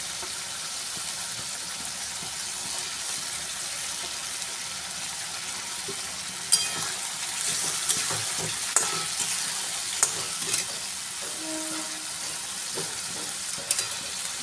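Boiled potatoes fry in a pan of katla fish kaliya curry with potol, giving a constant close sizzle broken by a few sharp spatula knocks and scrapes, with no voices.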